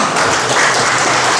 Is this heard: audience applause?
yes